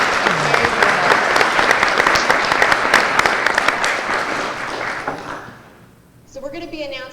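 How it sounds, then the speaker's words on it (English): An audience at a university business model competition gives the students a sustained round of applause that gradually fades, followed by a voice starting to speak. "So one more round of applause for the students."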